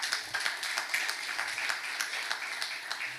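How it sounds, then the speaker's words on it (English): Light, steady applause from a small audience at a computing conference, a few seconds of scattered clapping heard at a distance. "Another round of applause to."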